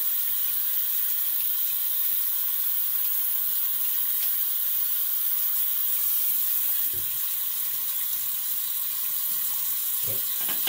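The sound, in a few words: running tap water, cold water rinse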